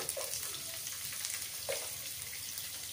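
Ginger and garlic go into a hot pan for paneer masala, a faint, steady sizzle with a couple of soft spatters over quiet background.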